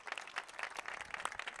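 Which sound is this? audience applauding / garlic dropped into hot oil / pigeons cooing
audience applauding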